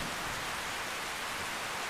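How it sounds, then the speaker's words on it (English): Rain falls steadily over a swamp in a video game, a dense continuous hiss with no breaks, moderately faint and alone. "Of course it decided to rain."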